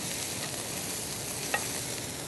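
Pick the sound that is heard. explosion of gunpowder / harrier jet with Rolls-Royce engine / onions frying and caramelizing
onions frying and caramelizing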